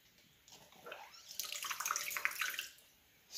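Water trickles and splashes out of an RC outrigger boat's water cooling system near the ESC, a thin steady flow swelling into a brighter gush for a couple of seconds before tapering off, close and fairly faint.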